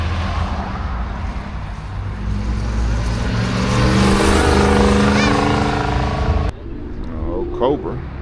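An old Cobra Ford Mustang with a 5.0 engine drives past, its engine note swelling loud and close before dropping away, with a person talking over it.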